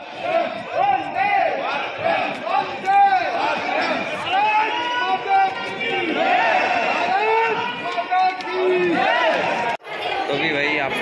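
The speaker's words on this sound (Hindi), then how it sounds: "बाकी भीड़ तो बहुत भीड़ हो रखी है" A large crowd packs a stadium entrance at a Tiranga Utsav celebration at Indira Gandhi Stadium in Delhi: dense, loud chatter, shouts and cries overlap continuously, close by and all around.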